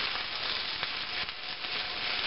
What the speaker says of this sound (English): pops a little bit because there's water in the spinach, but if you cover up the oil, it shouldn't pop out on you